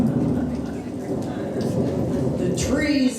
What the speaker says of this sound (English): Fiercely the storm raged. The rain fell in torrents.